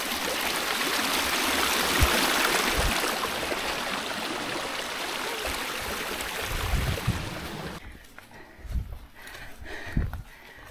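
A stream on a hiking trail flows in a steady, full rush of water, close and continuous. It turns thinner and quieter near the end, with a few low knocks and bumps from nearby movement.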